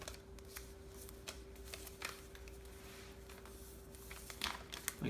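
Paper being creased and folded by hand for a simple origami Valentine's card: soft, close crinkling and rustling with scattered light scrapes and taps, steady and quiet throughout.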